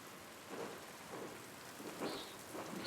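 Steady rain and distant rolling thunder from a stormy scene in the video game Pentiment, a continuous wash of rainfall with low rumbles swelling and fading throughout.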